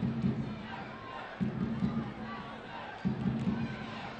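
Stadium crowd at a Seattle Sounders FC 2 versus LA Galaxy II soccer match, a steady roar of cheering fans with swelling bursts, heard from a distance under commentator talk.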